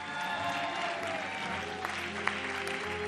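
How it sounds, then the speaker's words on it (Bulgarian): A crowd applauding steadily, a dense wash of clapping with a couple of sharper claps standing out near the end. "Да чуем вашите аплодисменти за Жоро, певец и приятел на Николета."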